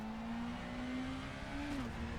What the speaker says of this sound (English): Tyres screeching as we lock up a bit.